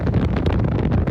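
Strong wind buffets the microphone outdoors on a backpacking trip through the British countryside, a continuous rough roar with gusty surges throughout.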